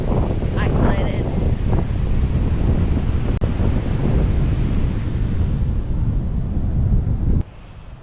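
Strong wind buffeting the microphone on a rugged, wild, isolated beach, a loud continuous roar throughout that drops abruptly near the end, with no speech.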